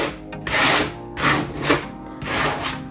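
A scraper rasps across a Cricut cutting mat to clear leftover debris, making three broad, close scraping strokes with short pauses between them and no talking.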